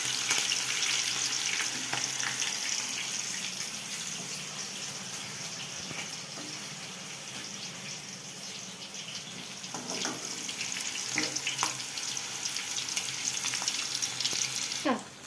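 Green chillies and curry leaves fry in hot oil for a chicken leg fry, giving a steady broadband sizzle with occasional stirring scrapes and brief clinks throughout, loud and close with no voices.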